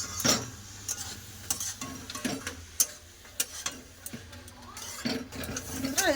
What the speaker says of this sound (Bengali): ভালো করে তরকারির সাথে ধনেপাতাটা মিশিয়ে নেবো।